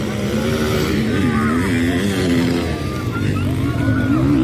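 Motocross motorcycles on the reconnaissance lap at a French national championship round with 125 and 450 classes, a loud continuous engine drone with rising and falling revs, dense and unbroken throughout, with crowd or voices blended beneath.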